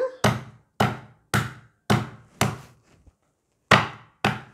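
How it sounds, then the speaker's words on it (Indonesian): Seven hard, heavy thumps strike at an irregular pace, the sound of galangal root being smashed flat against a wooden board, close and loud. "ini saya geprak juga lengkuasnya"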